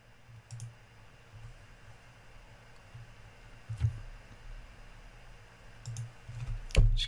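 Computer mouse clicks during PowerPoint work on a PC, a few faint sharp ticks scattered over a quiet room tone, with a couple of louder clicks near the end and no talking.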